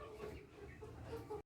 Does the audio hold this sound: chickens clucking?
yes